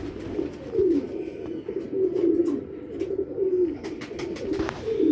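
Sialkoti pigeons of an old Sialkot breed coo in close, repeated throaty rolls that run steadily throughout, with no voices over them.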